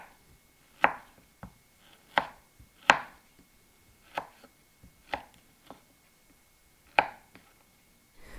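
Knife chopping solid pork fat back into even pieces for rendering lard, with sharp, isolated thuds on a cutting board arriving every second or so, close and clear with quiet gaps between.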